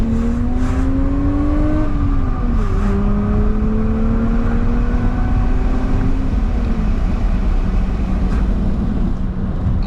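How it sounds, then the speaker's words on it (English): A 1988 BMW Alpina B3 2.7 E30 engine revs steadily while driving, rising and dropping through the gears in a loud, continuous drone close up, with no talking. "I'm revving it out, but I'm being gentle on it"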